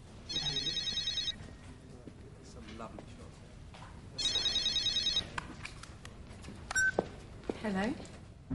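An electronic telephone ringtone sounds in two loud, warbling bursts of about a second each, separated by a pause, followed by indistinct background movement and faint clicks, with no clear speech.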